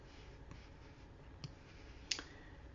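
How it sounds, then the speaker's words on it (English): A single faint computer mouse click opens an email, one short tick near the end of an otherwise quiet stretch with a couple of softer taps before it. "I'm going to go ahead and click on it."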